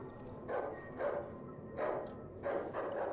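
Dog in the survival horror game Darkwood barking in four separate bursts, moderately near and fairly loud, with no talk over it.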